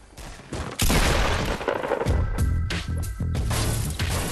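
Gunfire in Fortnite during a build fight, a burst of rapid shots that starts abruptly and keeps going in dense volleys, loud and close.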